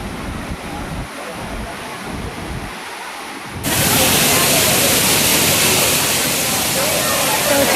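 Kempty Falls waterfall in Mussoorie roars as a loud, dense rushing wash that swells up abruptly midway, with quieter wind-buffeted rumble and faint voices before it.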